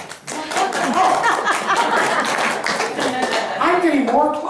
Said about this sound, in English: I'm getting more claps today